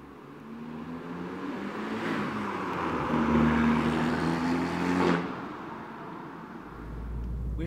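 A car drives through Edinburgh at night, its engine and road noise droning steadily from inside as it accelerates and shifts, with a brief whoosh of passing traffic before the sound drops to a low idle.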